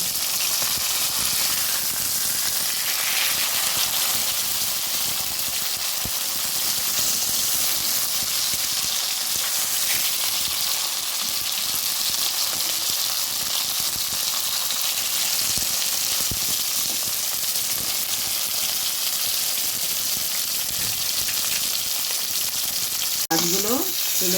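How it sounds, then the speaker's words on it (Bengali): Bhola fish fries in oil in a pan, a steady, close hiss and sizzle that stays loud and even the whole time, with occasional stirring or turning noises and a brief clatter near the end. "একদিক হয়েছে অন্যদিক আমি উল্টে দিয়েছি ভাজা হলে তারপর নামিয়ে নেব"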